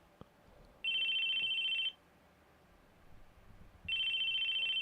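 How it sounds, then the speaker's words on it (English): A phone in the visual novel CHAOS;CHILD rings in two long electronic trills separated by a pause, loud and clear over a quiet background. "Our conversation was cut off by the sound of a phone."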